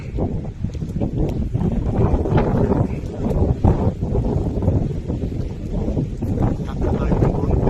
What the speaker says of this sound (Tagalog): Naulan. Malakas ang hangin.